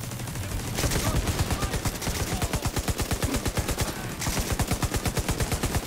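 A light machine gun fires in The Division 2. Long rapid bursts of evenly spaced shots run almost without a break, loud and close, with a brief pause near the start.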